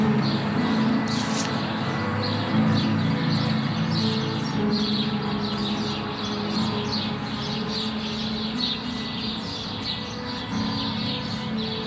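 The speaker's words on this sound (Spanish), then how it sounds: "las mañanas y las tardes tienen esos sonidos de los pajaritos" Small city birds chirp and tweet steadily throughout, many quick bright calls overlapping at moderate distance over a continuous urban hum, with a dove-like coo mixed in.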